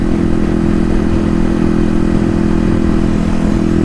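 A motorcycle engine roaring steadily and loudly while being ridden, a constant close drone with no pauses.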